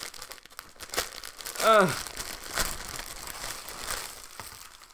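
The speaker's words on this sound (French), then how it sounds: "attendez, je vais le déballer" Plastic packaging crinkles and tears as a t-shirt is unwrapped, close and fairly quiet, with a few crackling bursts and a brief voiced exclamation.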